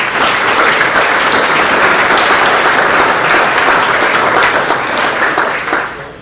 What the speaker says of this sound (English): let us give you a round of applause for your support and your care